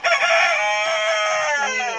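A native rooster crows loudly and close by in one long, sustained call among a flock of native chickens, with no voices over it.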